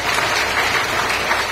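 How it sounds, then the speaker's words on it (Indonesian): Church congregation at a Pentecostal revival service applauding together, a dense, sustained clatter of many hands filling the room. "Tepuk tangan buat Tuhan kita."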